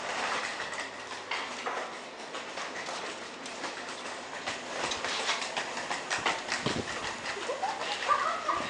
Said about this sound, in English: The train now approaching platform 5 does not stop here.